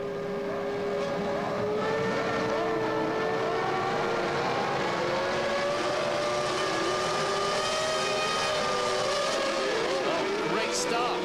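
Formula 1 cars revving on the grid at the start of the 1998 Spanish Grand Prix, a dense sustained wall of high engine whine with pitch sweeps climbing as they launch, loud throughout with commentary running over it.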